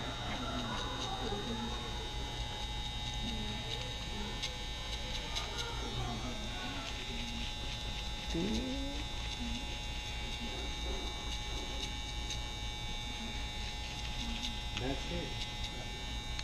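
A precision electric hair clipper hums steadily while cutting a taper, a constant close-up buzz that runs unbroken throughout with no pauses.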